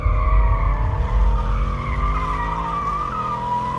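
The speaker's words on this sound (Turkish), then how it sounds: "Bir dakika bir araba patinaj atıyor dostlarım" Car tires skid and squeal in Minecraft, a loud sustained screech with shifting pitch over a rumbling engine, with no talk.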